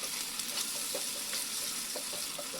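Sauces including tomato ketchup and vinegar fry in a pan over medium gas for a mushroom 65 recipe, a steady close sizzle with faint scraping stirs.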